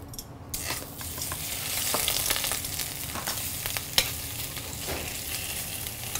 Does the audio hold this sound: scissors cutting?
no